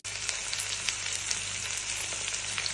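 Small onions sauté in oil in a pan for a spicy kara kuzhambu, giving a steady, close sizzle with faint pops throughout and no talking.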